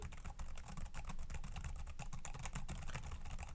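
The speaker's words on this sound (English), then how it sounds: "the 2-level backlit keyboard that I think works just amazing, because as you can hear," Soft, rapid clicking of typing on the quiet backlit keyboard of a Dell Latitude 12 7270 laptop, steady and continuous, close by with no talking.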